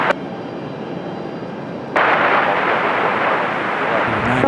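A United airliner on its takeoff roll from runway 23 right at Raleigh-Durham, a steady broad engine roar that jumps sharply louder partway through and holds at a strong, sustained level.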